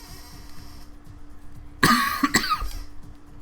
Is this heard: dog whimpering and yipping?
no